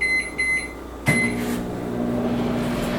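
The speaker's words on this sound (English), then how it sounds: "we're going to put it in the microwave" A microwave oven heats food to melt cheese: a few short beeps, then a sharp start and a steady, close-up hum that keeps running.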